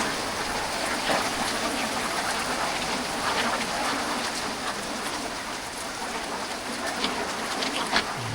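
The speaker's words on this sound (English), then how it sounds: "It has rained since yesterday," Steady rain falls through a rainy-season day in a Kenyan village, a dense even hiss of drops on surfaces with a few louder patters and no voices.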